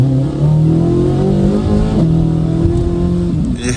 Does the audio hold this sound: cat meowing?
no